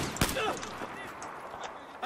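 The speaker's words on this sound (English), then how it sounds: "Why did you guys start firing shots?" Battlefield 4 gunfire: a sharp shot near the start, then scattered fainter bursts and pops through a busy, noisy game mix, with some voices underneath.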